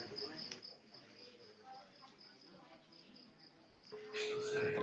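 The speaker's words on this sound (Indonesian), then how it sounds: "seueur sora jangkrik" Crickets chirp in a steady, faint high-pitched trill throughout, under quiet background noise, with a brief louder rustle and tone near the end.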